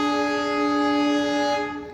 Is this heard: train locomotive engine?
yes